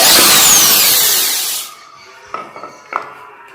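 An Ibell ED06-91 drill whirs loudly in reverse to back out a screw, then spins down and stops, followed by a few light clacks and handling knocks.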